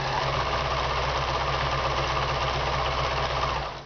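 Sewing machine stitching high-quality muslin panels for a color wheel footstool, a steady continuous motor hum with fine rapid needle chatter running evenly throughout, close and fairly loud.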